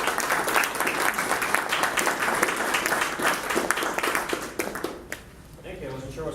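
Sustained audience applause with dense clapping and some cheering for a speaker at an evening talk on the Enbridge pipeline, loud and continuous, then tapering off near the end as a voice begins.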